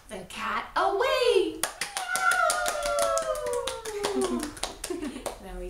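Hands clapping in a quick, steady series during a children's storytime rhyme, heard close and fairly loud, with a voice speaking or chanting over the claps.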